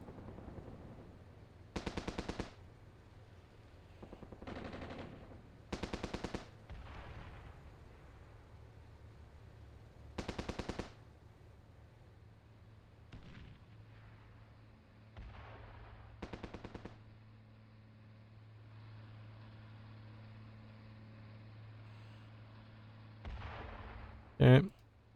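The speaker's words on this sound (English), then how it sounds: "now we're firing here with the mortar as well" Mortar and gunfire in the tank warfare game Armored Brigade 2 come as sharp, separated bursts and thumps. They are spaced across a quieter background of low engine rumble, and one loud blast lands near the end.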